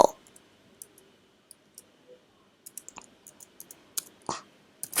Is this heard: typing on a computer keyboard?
yes